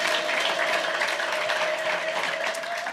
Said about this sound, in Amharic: በደንብ ለጌታ ክብር አጨብጭቡ እስኪ